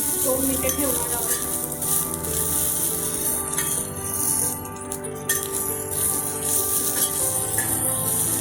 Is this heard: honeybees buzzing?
no